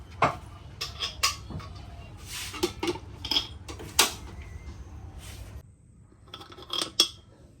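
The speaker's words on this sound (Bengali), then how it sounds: "এই যে এখন আমি এগুলো কড়াইয়ে দিব, দিয়ে শাকগুলো সেদ্ধ করে নেব।" Leafy greens going into a wok to boil with salt and water, amid sharp, scattered clanks and clatters of pots and metal utensils close by, a brief lull, then a few more knocks.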